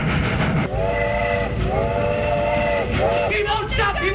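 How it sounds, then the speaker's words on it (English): A runaway train in an old cartoon, heard as a loud, sustained multi-tone whistle blowing in long blasts over a rumbling rail clatter, with brief shouting voices toward the end. "Stop that train!"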